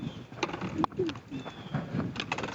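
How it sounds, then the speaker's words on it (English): Pigeons or doves coo outdoors at a historic battlefield site in Gettysburg, with several soft, low calls near and far, mixed with chirps and faint background noise. "even with the birds going off"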